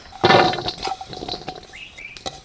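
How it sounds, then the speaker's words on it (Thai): Ingredients such as herbs and vegetables are rinsed by hand in water for a rural outdoor dish, with a close splashing burst followed by lighter sloshing and drips, and birds chirping faintly in the background. "ล้างก่อนเนาะล้างก่อน ล้างให้สะอาดนะครับผม"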